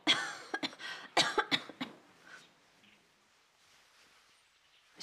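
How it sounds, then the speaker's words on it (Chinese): A woman in a historical drama coughs in a quick burst of several harsh, close coughs, followed by quiet breathing and faint room sound. "可有咳嗽？"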